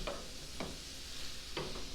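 Onions sautéing in a pan for Hungarian goulash give a steady soft sizzle, broken by three short scraping strokes of stirring spaced through the moment, close by with no voices.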